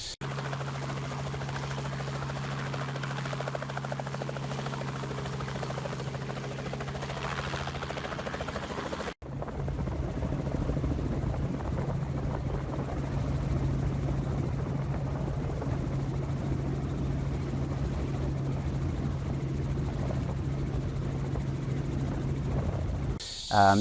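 A helicopter's engine and rotor drone steadily nearby, a constant low throbbing hum that continues throughout with a brief break partway.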